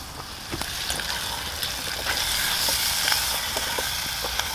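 Rabbit meat browns in a pan over an open fire outdoors, giving a continuous soft sizzle and hiss with scattered small pops and crackles, close and moderately loud, with no voices.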